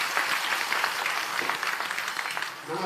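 A crowd at a Jan Suraaj gathering in Delhi bursts into loud, sustained applause, dense clapping that holds steady for a few seconds before easing off.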